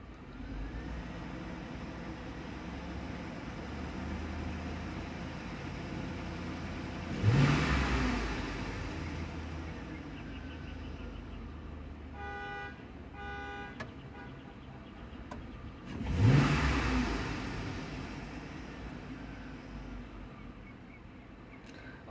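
A Chevy Suburban engine idles steadily, then revs up twice in distinct bursts, raising RPMs before settling back; a few faint electronic beeps sound between the revs.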